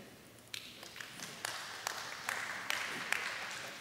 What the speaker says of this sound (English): round of applause if you've ever eaten snake